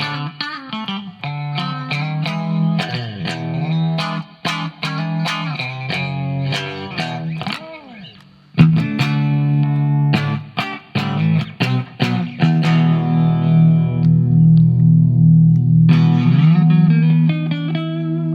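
A 1969 Fender Mustang electric guitar with a thin, nasal, honky out-of-phase pickup tone, playing chords and picked notes with effects and reverb, loud and continuous.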